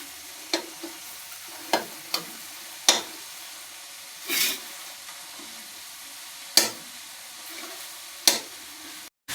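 Masala frying in oil in a pan while peas go in for a cabbage and pea sabzi, with soft steady sizzle broken by several sharp stirring scrapes and spatula clacks, close and fairly quiet.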